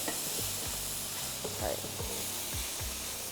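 Mushrooms sizzle steadily in a hot frying pan with a constant hissing crackle, close and fairly loud, while a few soft stirring scrapes recur across the pan.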